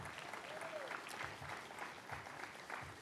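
Audience applause greets guests and dignitaries at a university new-building grand opening, a steady wash of many hands clapping throughout, moderately distant, with a faint voice briefly over it.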